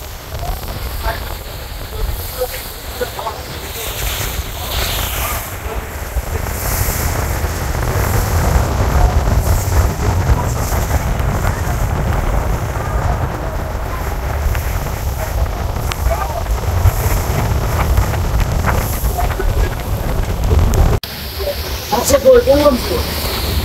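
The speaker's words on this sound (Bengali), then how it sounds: "নদী বেশ উত্তাল, আজকে নদীতে বেশ বাতাস রয়েছে।" Strong wind roars against the microphone over the churning Meghna river, heard from a passenger launch, a steady heavy rush with a brief cut near the end.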